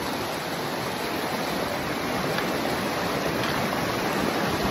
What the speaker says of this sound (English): All right, we're gonna have to ford this.